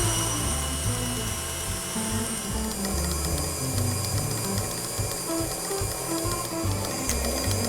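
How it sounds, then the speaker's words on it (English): Stand mixer whisking Italian meringue after hot sugar syrup is poured in, a constant close motor drone with the rhythmic rattle of the whisk in the bowl, no talking. "So now I just need to leave that whisking until the bowl is cool"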